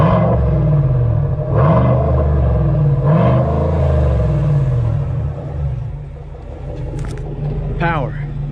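A 2020 GMC Sierra pickup fitted with a Borla exhaust and S&B intake rumbles and revs in repeated swells, loud and close, with people talking over the engine throughout.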